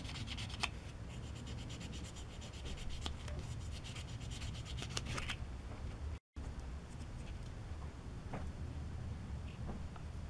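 A Tamiya 1/12 Yamaha YZR-M1 model motorcycle part being sanded through successive sandpaper grits, with steady close rubbing strokes that run continuously for about six seconds, a brief gap, then softer scraping with scattered small ticks.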